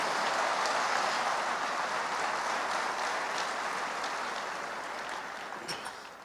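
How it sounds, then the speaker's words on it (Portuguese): Church congregation applauding for Jesus, a dense sustained clapping that fills the room and slowly eases toward the end, with no speech over it. "Dê para Jesus mais uma forte salva de palmas, amém?"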